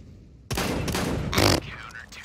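A shotgun blast in a competitive online shooter match, loud and close, with a burst of gunfire-like crackle and a second sharper report in the middle of the short stretch.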